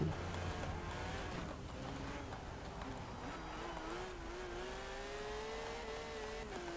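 A Porsche 911 GT3 RS in Forza Horizon 4 holds a steady, close engine drone whose pitch slowly climbs and wavers as it accelerates, heard throughout without talk.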